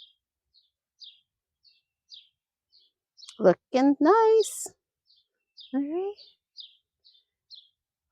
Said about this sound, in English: I don't know if you can hear those birds, but they are really singing